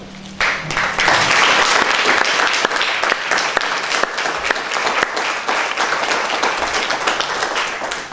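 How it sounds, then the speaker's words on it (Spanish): Sustained audience applause fills a Puerto Rican history commemoration event, loud, dense clapping from a crowd holding steady for about eight seconds without speech. "quisiera que diéramos un fuerte aplauso, es a nuestra puertorriqueñidad"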